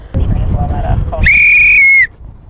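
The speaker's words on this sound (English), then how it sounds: "you can use a regular standard police style plastic whistle" A single loud, shrill blast from a plastic police-style whistle lasts under a second, steady and piercing, following a burst of low rumbling background noise.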